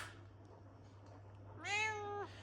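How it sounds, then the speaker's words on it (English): An old 16-year-old cat gives a single drawn-out meow, close and clear, rising then falling over about half a second against a quiet indoor background with a low steady hum. "Ooh, that's my cat, Sasha."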